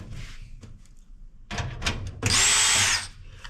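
A power drill whirs in short bursts, with a brief spin-up near the middle and then a louder, sustained high-pitched run of under a second before it stops, close by and with no talking.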